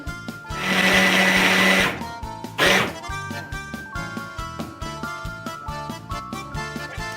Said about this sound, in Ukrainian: Спочатку ми беремо блендер і збиваємо. Фасолю.